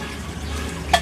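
Small cheap water fountain pump pouring water into a miniature waterfall, a close, steady hiss of flowing, splashing water with a brief brighter splash near the end and no voices.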